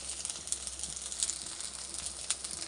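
Dhoka lentil cakes fry in a pan of hot oil, giving a quiet, steady sizzle with soft crackling pops scattered throughout, heard alone without voices.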